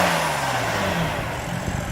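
A BMW M3 with a 3-liter twin-turbo inline-six engine revs up and settles, a close, loud mechanical growl that rises and then drops in pitch.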